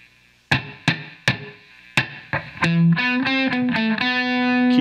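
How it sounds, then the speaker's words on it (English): Electric guitar through a reverb effect playing a handful of sharp plucked notes, then a run of sustained chords, each left ringing in a roomy, spacious tail. "Key 9 toggles our reverb on and off."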